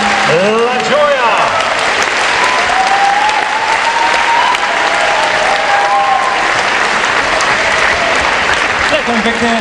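An audience at a 2015 International Women's Day stage show in Šaľa applauds loudly and continuously after a performance, a dense wash of clapping with some voices mixed in.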